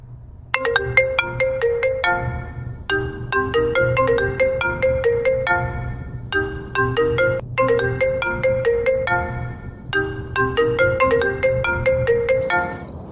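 A phone ringtone plays during an outgoing call, a bright repeating melodic chime in several bursts with short pauses between them, steady and fairly loud over a faint low hum, with no talking.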